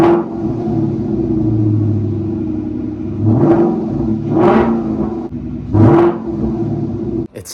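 A Ford Mustang with a new aftermarket exhaust idles loudly with a deep rumble after a cold start, then is revved three times in sharp, rising bursts.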